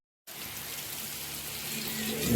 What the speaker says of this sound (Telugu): వర్షం చూశాను,